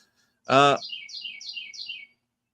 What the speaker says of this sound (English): What kind of bird is that? Bird lovers out there. I see a nuthatch, and I see a tufted titmouse.